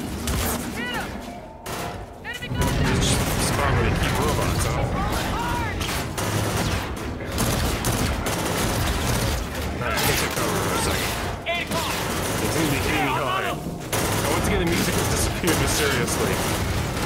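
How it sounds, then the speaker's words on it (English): Burst-fire gunshots crack out in rapid clusters amid a dense, loud firefight in the shooter game Call of Duty: Infinite Warfare, layered with explosions, music and battle noise almost continuously. "Burst fire."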